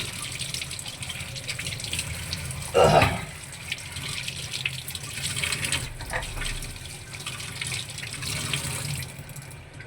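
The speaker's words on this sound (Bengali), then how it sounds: "আমগুলো আবার একটু ধুয়ে নিতেছি।" Mangoes are rinsed under a running kitchen tap, with a steady hiss of flowing water and a brief louder splash as the fruit passes through the stream.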